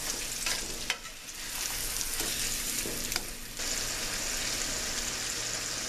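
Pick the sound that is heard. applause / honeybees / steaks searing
steaks searing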